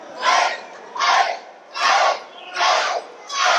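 A professional wrestling crowd at a CCW Anniversary show in Port St. Lucie, Florida, chants in loud, rhythmic bursts at Jackal Stevens, five swelling shouts evenly spaced with brief lulls between, filling the arena with no commentary over them.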